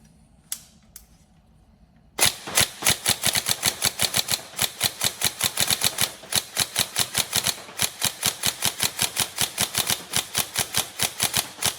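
An upgraded Tokyo Marui MK18 next-gen recoil shock airsoft electric gun test firing. After a couple of faint clicks, it fires loud, close, rapid mechanical rounds in fast bursts, one after another with brief gaps.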